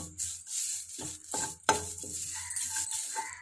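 Crackling, rustling sizzle of curry leaves dry-roasting in a hot pan for sesame powder, with intermittent scraping and stirring clinks, close and moderately loud.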